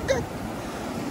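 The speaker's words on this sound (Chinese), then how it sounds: "这个水怎么会冲那么多上来？" Sea waves surge up the beach at Honeymoon Bay in Yilan, making a soft, continuous wash of surf. A brief voice sound comes at the very start.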